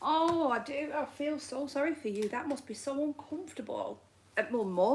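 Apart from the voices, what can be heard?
No everyday noises stand out.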